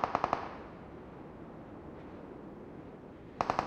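Gunfire in the mobile battle royale game PUBG Mobile: a quick burst of three or four sharp shots at the start, a stretch of low rushing noise, then another rapid burst of shots at the end.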